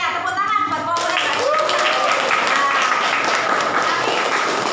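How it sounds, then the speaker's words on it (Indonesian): A class applauds the winning group in a school lesson, brisk clapping from many hands holding steady, with voices talking and calling out over it. "Tepuk tangan buat kelompok mereka."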